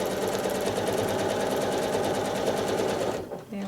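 A sewing machine quilting straight lines in a house block runs steadily and close, a fast even needle clatter that stops abruptly near the end, followed by a short quiet pause.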